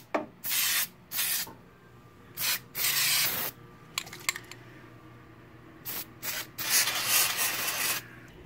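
Fluid Film rust protection sprays onto rusted car parts in short bursts, about a dozen loud hissing blasts of uneven length separated by brief pauses, with no voices.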